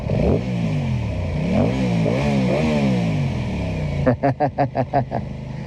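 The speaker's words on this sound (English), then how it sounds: "Really, really nice sounding engine." A 2025 Aprilia Tuono 660 Factory motorcycle engine revs up and down several times, its pitch rising and falling, then ends in a short burst of sharp throttle blips.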